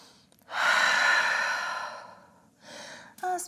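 Slow, deep breaths are taken in a yoga downward dog pose. First comes a long, loud exhale, and a softer breath follows it after a pause.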